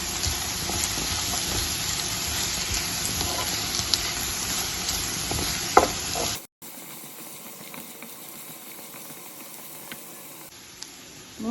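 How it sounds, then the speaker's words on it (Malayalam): Garlic, ginger, coconut slivers, onion and curry leaves fry in hot oil for a Kerala-style pork roast, a steady close sizzle and hiss with light stirring scrapes that drops to a softer frying sound partway through. "നല്ലപോലെ ഇളക്കി കൊടുക്കാം."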